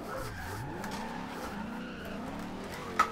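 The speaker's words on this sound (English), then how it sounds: "We're getting our drift on right now." Car drifting through a town in the Forza Horizon 2 racing game, with a steady engine drone and sliding tire squeal held throughout, ending in a brief sharp blip.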